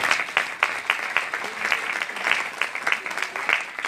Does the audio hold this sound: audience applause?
yes